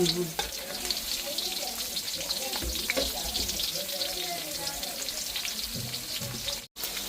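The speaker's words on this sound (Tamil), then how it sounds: "எண்ணெயை ஊற்றியாச்சு எண்ணெய் கொதிக்க வெந்தயம் போடலாம்" Fenugreek seeds fry in hot oil with a constant sizzling hiss, joined by soft clatter and light kitchen handling nearby.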